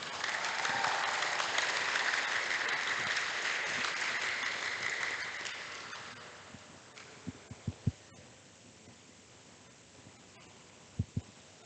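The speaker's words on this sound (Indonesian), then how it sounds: "Kita berikan tepuk tangan yang meriah." An audience at a school event in Palopo applauds, loud, dense clapping that fades over several seconds, leaving a few thumps and quiet room noise.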